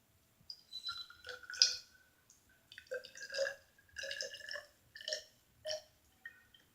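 Liquid is poured into a 50 ml graduated cylinder in a series of quiet, separate glugging and dripping bursts, each pitched a little differently, with short gaps between them.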